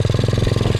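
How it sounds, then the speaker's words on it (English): A pit bike's engine fires and runs at a rapid, steady idle-like chug, close and loud, with regular pulsing beats throughout. "Start the bike, it has to be like this."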